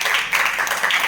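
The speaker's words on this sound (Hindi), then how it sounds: "ताली बजा दो" A group of schoolchildren claps together in a classroom, a short, dense burst of many hands heard close and loud for about a second.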